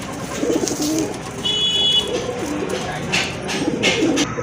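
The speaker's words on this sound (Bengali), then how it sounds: "চমৎকার এক জোড়া কবুতর।" A pair of fancy pigeons coo softly and repeatedly at close range, low throaty burbling calls in short phrases, with a brief faint electronic beep partway through.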